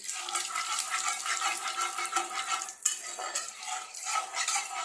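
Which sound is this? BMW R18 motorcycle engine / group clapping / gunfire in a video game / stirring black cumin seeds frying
stirring black cumin seeds frying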